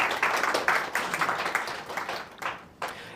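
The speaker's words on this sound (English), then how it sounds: "George, another round of applause for you, because you've been awesome." Modest audience applause at a tech meetup talk on transit data visualization, a smallish crowd clapping fairly quietly in bursts that taper off toward the end.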